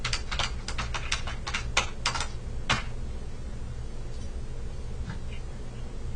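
Rapid clatter of keys being typed on a computer keyboard, a quick burst of close, sharp clicks that slows to a few scattered taps over a low steady room hum.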